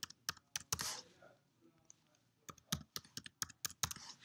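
An admin code being typed on a computer keyboard to log in to a Canon copier's web page, heard as close, crisp key clicks in a short burst, a quiet pause, then a second, quicker run of taps.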